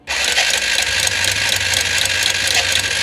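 A BS6 motorcycle engine cranks on its electric self-starter, giving a steady, loud, close whirring drone that runs unbroken for about three seconds.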